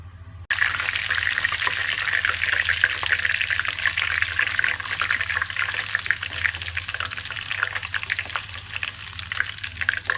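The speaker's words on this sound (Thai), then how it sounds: "แล้วเราก็จะทอดสมุนไพรโรยหน้ากันนะคะ" Pandan or kaffir lime leaves dropped into hot oil to fry as a topping for crispy fried grasshoppers: a sudden, steady, close sizzle and crackle that stays loud and unbroken throughout.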